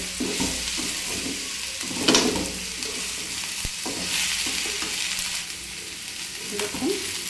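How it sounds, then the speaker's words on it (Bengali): Moong and masoor dal stir-fried in a pan with ginger and black cumin, a steady close sizzle with scraping spatula strokes and occasional louder stirs throughout. "এভাবে একটু নেড়ে চেড়ে ভাজতে হবে"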